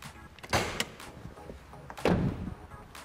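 Bonnet of a Toyota FJ Cruiser overlanding build being opened, two sharp latch-and-lid clunks about one and a half seconds apart, close and fairly quiet amid light handling noise.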